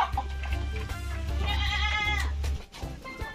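A goat bleats loudly and close by, a wavering, drawn-out cry over a low background rumble, while it is being given fermented cassava leaf feed.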